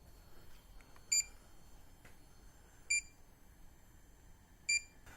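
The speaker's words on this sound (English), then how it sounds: "The first leak detector is going to be the Accutools" An Accutools EL520 refrigerant leak detector gives three short, sharp electronic beeps spaced evenly about two seconds apart, close and clear over a quiet hiss, with no talk.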